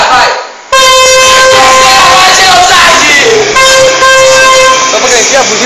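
A horn blasts loudly and repeatedly on a Brazilian TV variety show, its sustained tonal honks sounding over crowd noise and talk, with a short gap before it starts.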